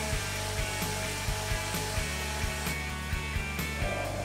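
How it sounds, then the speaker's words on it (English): Aluminum alloy being helically milled with a WRCX indexable cutter, a steady machine whir with rhythmic cutting ticks repeating about twice a second, continuous and close. "In helical machining of aluminum alloy, the Wrcx type exhibits stable and powerful machining."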